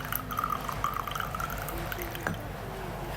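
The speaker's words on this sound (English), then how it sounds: "After steeping the tea, you pour it into the fairness cup" Steeped tea poured from a pot into a fairness cup, a steady trickling, gurgling stream of liquid with small splashes, close and continuous over a low background hum.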